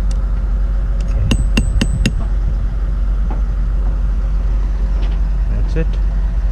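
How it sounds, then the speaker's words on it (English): A hammer taps bolts on a boat's top flange to loosen them, three or four sharp metallic knocks in quick succession up close, followed by a few fainter taps over a steady engine-like hum. "So just tap them lightly with a hammer first, like this, to give them"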